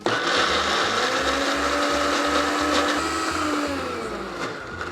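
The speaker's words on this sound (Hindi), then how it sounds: "सबसे पहले एक ब्लेंडर जार में चना दाल डाल देंगे with some water." A blender jar grinds chana dal with water, a loud continuous whirring motor with a pulsing low churn that stays steady for several seconds, then dips slightly toward the end. No voices.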